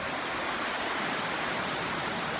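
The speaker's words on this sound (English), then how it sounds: "This river is like literally just pouring out of that cave." A river gushes straight out of a cave mouth and falls as a waterfall on a hike to the Walls of Jericho, a steady, loud, broadband roar of rushing water with no break and no voices.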